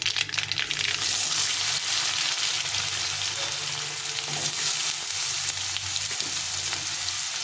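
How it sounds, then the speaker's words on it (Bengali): Pumpkin pieces frying in oil with curry leaves, a loud, continuous close sizzle with a low steady hum underneath, no speech. "কুমড়োগুলো ভালো করে ভেজে নিতে হবে লাল লাল করে ভেজে নিতে হবে"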